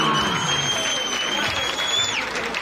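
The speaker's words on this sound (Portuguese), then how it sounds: "Uma salva de palmas!" Audience applause and crowd noise at a Brazilian rap battle, a steady wash of clapping with some cheering under a sustained tone, loud and continuous throughout.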